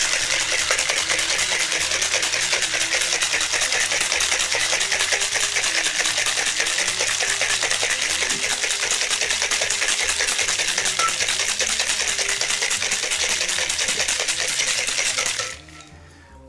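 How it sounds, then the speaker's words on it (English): A cocktail shaker holding a drink with egg and half an ounce of heavy whipping cream is shaken steadily and vigorously, a dense continuous rattle lasting about fifteen seconds before stopping abruptly. "Pop that off and give it a shake."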